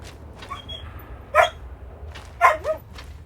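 Short dog barks from a Skyrim game companion, two brief bursts with a quieter follow-up yelp, moderately near over a low steady hum of game ambience.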